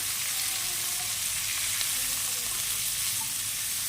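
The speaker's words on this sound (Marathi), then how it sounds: "आता मी हे पापलेट एक साईडने परतवून घेत आहे" Pomfret with a crisp coating frying in a pan as it is turned over, giving a loud, even sizzle that holds steady for the whole stretch with no talking.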